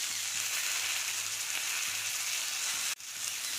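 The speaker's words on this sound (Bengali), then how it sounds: "এবারে দেবো টমেটো কুচি, আর 1/2 টেবিল চামচ গুঁড়ো ঝাল," Chopped tomato with chilli powder frying in a pan for a prawn and kohlrabi stem curry, giving a dense, even sizzle close by that stops briefly near the end.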